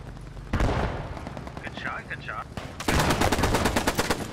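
Rapid bursts of automatic gunfire from a World War II game, Post Scriptum, loud and close, with a brief pause and a short tonal game sound before a denser, harder volley takes over.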